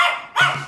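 A pet dog in a home gives two quick, loud barks back to back, close by, with no voices over them.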